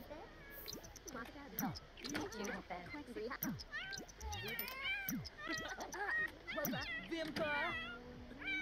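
Cats in The Sims 4 video game meow repeatedly in rising and falling calls, close and overlapping, while a person talks over them throughout.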